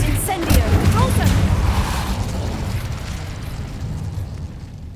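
An Incendio fire spell erupts in Hogwarts Legacy during a combat trial, a loud rumbling burst of flame and explosive crackle that slowly fades, with game sounds layered over it.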